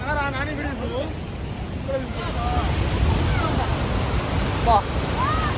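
The Hogenakkal waterfall in flood season sends water crashing down, producing a constant loud, broadband roar with wind buffeting the microphone, while people talk nearby over the rushing noise.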